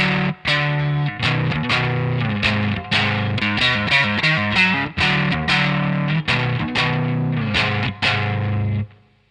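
Distorted electric guitar playing a song's verse riff with a chorus-like shimmer, a repeating pattern of plucked notes and short pauses, close and loud, no voices.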